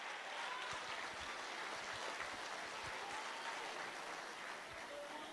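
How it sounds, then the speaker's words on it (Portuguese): A church congregation applauds enthusiastically during a worship service, a steady, even wall of many hands clapping at a moderate distance that holds without letup. "Aplaude com vontade."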